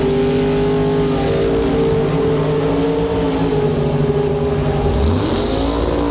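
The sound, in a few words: drag racing cars: big block Chevrolet vs 1967 Shelby Mustang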